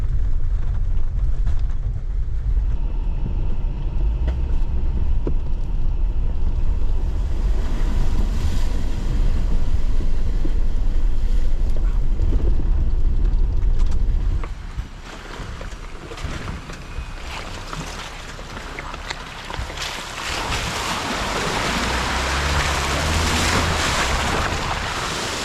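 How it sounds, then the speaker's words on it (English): Broadband rushing water from a sizeable stream flowing past a rainy woodland trail, steady and fairly loud close by, with wind buffeting the microphone and a shift in tone partway through as the position changes. "I would not have expected a stream of this size to be going through here."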